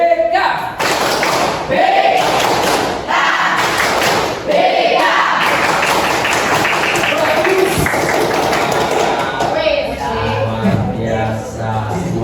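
Students in a guidance and counselling class perform the rhythmic BK clap chant, loud patterned bursts of clapping and thumps alternating with chanted voices, close and energetic throughout.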